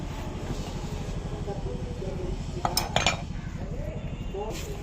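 An old bearing from a Hero Xtreme motorcycle breaks and drops with a brief metallic clatter and clink amid steady workshop hum and a rhythmic engine-like drone, with someone talking nearby.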